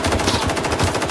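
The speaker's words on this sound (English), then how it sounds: "He's shooting at me through the wall" Rapid automatic gunfire from a weapon firing through a wall in the video game STALKER 2, a fast dense burst of loud shots in quick succession filling the whole moment.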